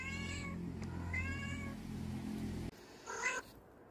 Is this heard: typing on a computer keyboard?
no